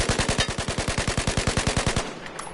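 Rapid automatic fire from a carbine rifle at a Battlefield 4 shooting range, about twenty evenly spaced sharp shots in a fast burst lasting two seconds, then a brief fading tail.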